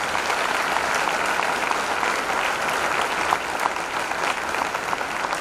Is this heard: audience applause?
yes